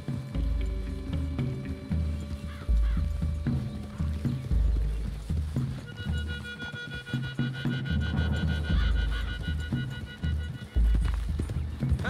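Horse hooves clip-clop steadily along a wooded trail in a Wild West video game, mid-distance and fairly loud, with an occasional whinny and game music underneath.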